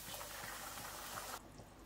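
Hot chicken broth pours steadily into a cooking pot, a continuous close splashing stream that stops abruptly near the end, with no talk.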